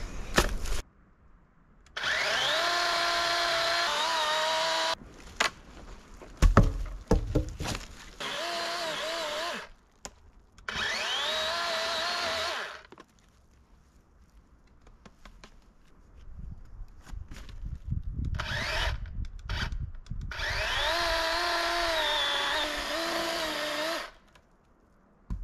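A small battery chainsaw buzzes loudly in several separate bursts as it cuts through logs, with short quiet pauses and handling noises between cuts.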